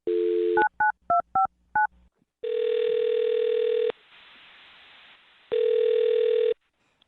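Touch-tone keypad beeps in a quick series of short tones, followed by long steady tones with a pause between them, clear and close.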